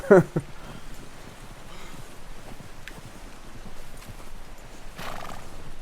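Horse hooves clip-clop at a moderate pace in Red Dead Redemption 2, opening with a sharp neigh, then another whinny near the end; game-like effects, no speech.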